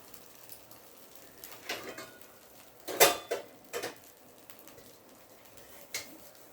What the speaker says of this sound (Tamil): வச்சுட்டு மேலே ஒரு மூடி போட்டுக்கலாம்.